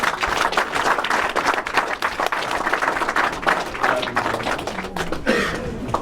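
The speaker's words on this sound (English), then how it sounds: "Let us give him a round of applause." Sustained audience applause at a reception in the House of Commons, dense steady clapping from a crowd for about six seconds with no talk over it.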